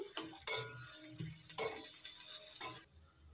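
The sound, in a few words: stirring egg devil potato filling in a pan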